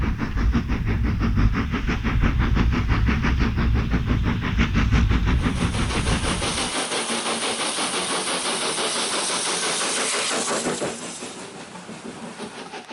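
A steam train on a heritage railway passes nearby with a loud, rhythmic chuffing and deep rumble that lightens partway through, then fades as it moves on.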